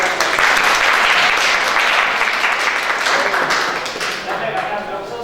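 An audience claps for a speaker arriving to give a talk on complexity and computability, a loud, sustained round of applause that eases slightly toward the end, with voices over it.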